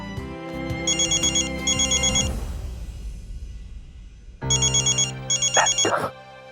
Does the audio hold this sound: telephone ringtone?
yes